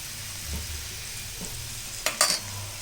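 Kandarappam frying in oil in a pan gives a steady, soft sizzle throughout, with a few brief louder crackles and spatters near the end; no one talks.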